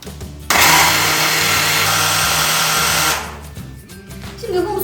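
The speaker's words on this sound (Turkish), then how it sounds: "Şimdi robotumu çalıştırıyorum." Food processor blending hummus with cumin and salt, a loud steady whirring motor running for about three seconds before spinning down, close and without speech.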